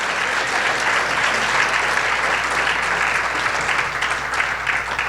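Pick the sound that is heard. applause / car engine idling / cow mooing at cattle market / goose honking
applause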